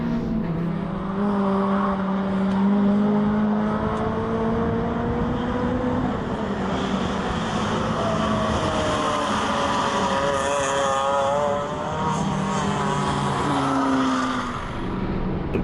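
Race cars lapping the Brands Hatch GP circuit, with steady, loud engine drone from close by and rising and falling pitch as the cars accelerate and shift gears side by side, with no talk.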